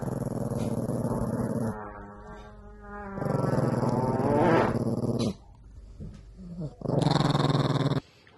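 A tiny dog wearing a sweater growls in several loud, sustained bursts separated by brief pauses, rumbling close to the listener with no talk over it.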